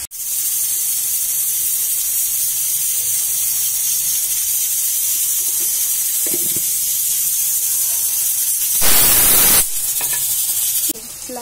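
Chopped tomatoes and onions hit a hot pan with a loud, steady hiss that runs throughout, swelling into a brief louder burst near the end, while a voice speaks faintly over it.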